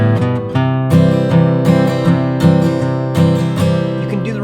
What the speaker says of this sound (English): Here's how you can transition from a G to a C using a walk up.